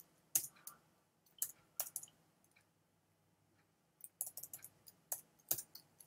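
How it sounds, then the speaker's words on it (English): Computer keyboard typing at a desk: scattered soft key clicks in two short bursts separated by a quiet pause, faint and close, with no talking. "I'm simply going to type"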